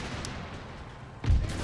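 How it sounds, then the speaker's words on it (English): Grenades thrown at fleeing enemy troops in the Empire: Total War strategy game: a steady wash of battle noise, then one deep, loud boom near the end, with no voices. "throw grenades at them, which is a little bit overkill because they're now running away"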